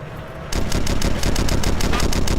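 Tank gunfire in the video game Red Crucible Firestorm, a sudden onset of rapid, evenly spaced loud bursts after a short quiet lead-in, continuing without a break.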